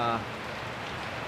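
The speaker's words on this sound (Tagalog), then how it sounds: "May higit 3 linggo na po ang ulan dito." Heavy rain pours steadily after more than three weeks of downpour in muddy hill country, a dense even hiss from close by that continues after a brief opening bit of a voice.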